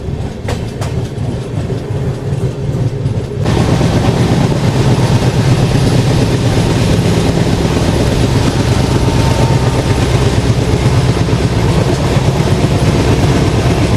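A Garib Rath express train runs on the Jhansi line, heard from on board as a loud, constant rumble of rolling wheels with rhythmic clatter over the rails, steady and unbroken with no talk.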